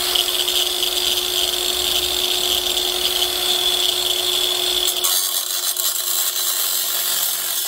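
Makita variable-speed angle grinder cutting through a 1 1/16 inch grade 8 bolt, a loud steady high-pitched whine with dense grinding noise that continues without a break, heard alone, the tone shifting slightly partway through.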